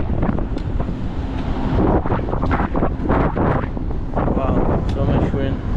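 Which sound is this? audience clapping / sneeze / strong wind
strong wind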